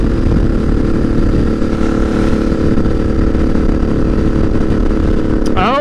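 2013 Suzuki Boulevard M50 (VZ800) bobber motorcycle cruising at about 70 in 6th gear, a loud steady engine drone with wind rush throughout, heard from the rider's position.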